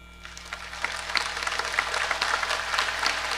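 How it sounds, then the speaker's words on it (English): An audience at a live roundtable show at the Midwest Sportsmans Classic breaks into applause, scattered claps building into a fuller, steady clapping over a faint hum. "Round of applause for us."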